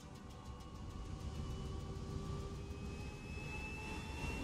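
A spaceship lifting off in the video game Star Citizen gives a steady, loud jet-like engine roar, with sustained whining tones that slowly rise in pitch over a deep rumble, continuous from start to finish.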